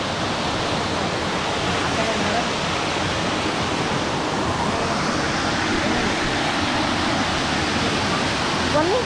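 Clear mountain water flowing down near Chikkamagaluru, a steady, loud broadband rush of running water filling the whole stretch without a break, like a nearby stream or small waterfall.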